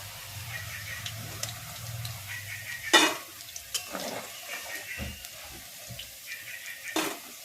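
Fried soya chunks are lifted out of a frying pan of hot oil: a low sizzle and scraping spoon clatters, with a few sharp metallic knocks against the pan.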